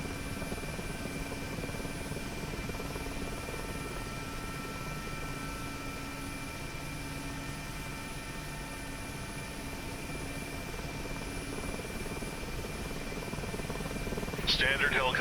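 A Mi-8MTV2 helicopter in the DCS flight simulator holds a continuous, even rotor and turbine drone at low volume throughout, and a brief burst of noise comes near the end.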